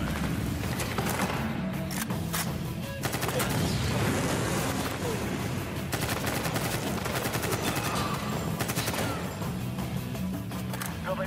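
Gunfire in the video game Medal of Honor (2010): dense, continuous automatic and rapid shots crackle for the whole stretch, with sharp impacts and crashes layered in and no pause in the firing.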